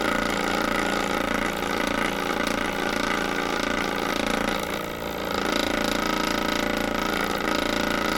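A generator engine runs steadily at about 3400 RPM, a loud continuous mechanical hum and rattle with one brief dip in level midway.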